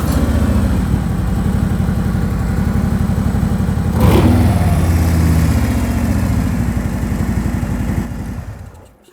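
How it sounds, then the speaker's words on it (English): Motorcycle fitted with an Arlen Ness Monster Sucker air cleaner, its engine running at a steady loud idle with a brief throttle blip near the middle before winding down, no talk. "I'm going to start the bike up and you can listen to that monster sucker intake sound"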